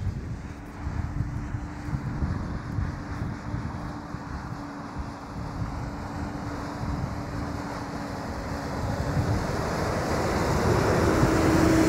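Strong wind buffets the microphone with a steady low roar that grows louder toward the end.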